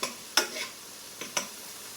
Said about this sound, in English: just sort of mix it in with the vegetables that are sauteing